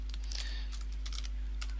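Quick, light keystrokes on a computer keyboard, a short burst of close typing over a low electrical hum.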